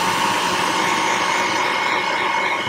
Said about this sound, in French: Toujours notre même ami, le sèche-cheveux.